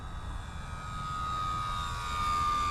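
A radio-controlled model airplane flies a full-flap landing approach, its steady engine drone continuing without a break for the whole span, fairly loud and even, with no talk over it.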